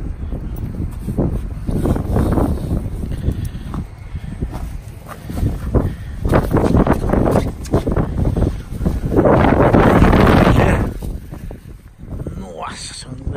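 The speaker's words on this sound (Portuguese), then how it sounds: "tá ventando, pessoal" Gusty wind during snow in Maine buffets the microphone in uneven surges, growing strongest near the end, while a voice speaks intermittently over it.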